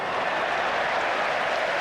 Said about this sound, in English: Big cheer from the crowd as the Tongans get a touch of their own medicine